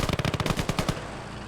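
Tank-mounted machine guns fire in the World War II video game Call to Arms Gates of Hell: Ostfront as a loud, rapid burst of about ten evenly spaced shots, then cut off abruptly with a short fading tail.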